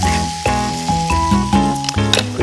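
Chili seasoning sauce being stir-fried in a hot pan gives a steady, loud sizzle, heard close up over tuneful background music.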